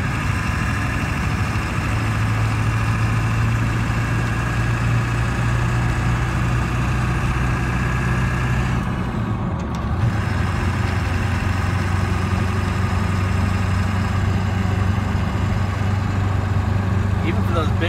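A 1999 Ford F250 diesel pickup with a manual transmission idles steadily close by, its low, even engine drone running unbroken through the whole stretch.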